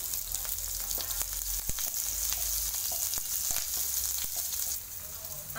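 Onion and cumin sauté in a hot pan, a steady close sizzle and crackle running through with occasional soft scrapes of stirring, no voices.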